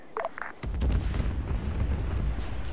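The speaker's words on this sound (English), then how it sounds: "Calum just got cluster bombed!" Cluster bombs detonate in a military video game, a sudden heavy boom that rolls into sustained low rumbling blasts after a few faint sounds at the start.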